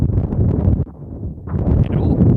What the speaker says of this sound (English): And ooh, hello to that wind.